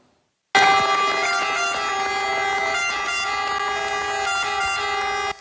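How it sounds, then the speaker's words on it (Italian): Fire brigade sirens sound as a funeral procession leaves the cathedral in Caltanissetta, several loud wailing tones layered together that start abruptly and hold steady until cut off, with no talking. "Le sirene dei Vigili del Fuoco hanno accompagnato l'uscita del feretro dalla cattedrale di Caltanissetta"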